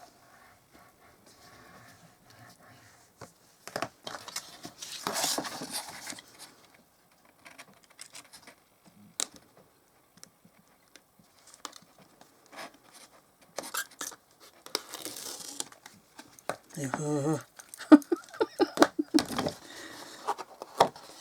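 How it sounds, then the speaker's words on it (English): Tape is pressed onto a memory book page and burnished, producing intermittent close rubbing and scratchy swipes in short bursts separated by quiet gaps. "So put my tape on again, give it a good burnish."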